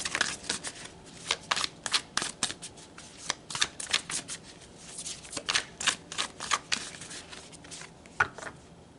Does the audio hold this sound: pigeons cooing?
no